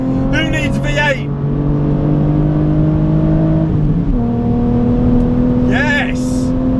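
BMW Z4 on a race track, its engine droning steadily close up from inside the car, with the pitch shifting once as it changes gear, while a person's voice briefly speaks over it.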